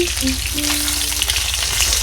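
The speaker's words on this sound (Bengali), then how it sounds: "সুন্দর করে লাল লাল করে মাছগুলো ভাজা করে নেব।" Pieces of snakehead fish fry in hot oil with a dense, steady sizzle and crackle, loud and close throughout.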